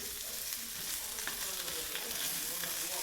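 Mushrooms with garlic and jalapenos sizzle steadily in a hot pan, a dense even frying hiss with faint scrapes and shuffles as they are tossed, close and continuous with no talking.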